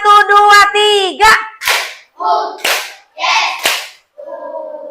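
Children in a classroom at MIN 3 Tasikmalaya run through a counted clapping routine: a few sharp hand claps land between loud, chanted voices calling out the counts.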